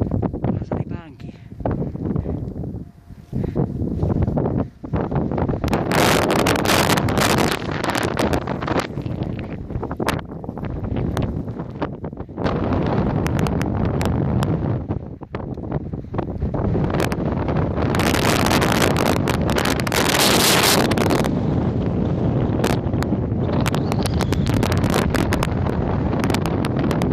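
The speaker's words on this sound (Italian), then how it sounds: "un vento infernale, veloce di qua verso Mondena" Roaring mountain wind in a blizzard while ski touring gusts hard against the microphone, buffeting loudly and almost without pause, with a person talking through the storm.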